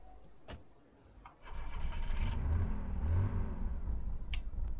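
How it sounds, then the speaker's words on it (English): A vehicle engine in a video game cranks briefly, then catches and settles into a loud, steady mid-range idle hum, close and alone. "That sounds like a strong engine."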